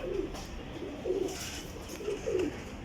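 Pigeons cooing in a small loft setting, three soft, rounded coo phrases spaced about a second apart over quiet background noise.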